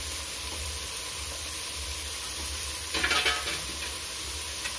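Vegetables and masala with coriander and mint sautéing for vegetable biryani, a soft steady sizzle with a brief burst of stirring and utensil scraping midway, close and fairly quiet, with no voices.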